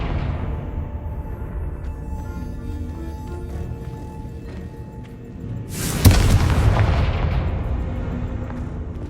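A Confringo fire spell blast in Hogwarts Legacy: a sudden loud whooshing burst over a steady rumbling game ambience, trailing off into a noisy roar.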